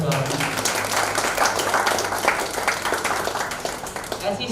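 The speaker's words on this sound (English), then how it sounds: "Please give him a round of applause." An audience applauds a guest at a public event, a steady wash of clapping of moderate loudness, with a voice speaking over it.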